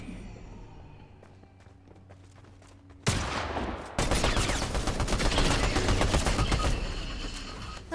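Shotgun fire in a Fortnite duel during a Star Wars themed event, a quiet stretch followed by a sudden loud blast and then a dense, sustained burst of gunfire and action noise that continues to the end.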